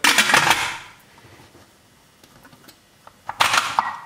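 A pressure cooker lid closing over a pot of sweetened condensed milk covered in cold water: a bright metallic clatter, a quiet pause with faint ticks, then a second sharp clanking rattle.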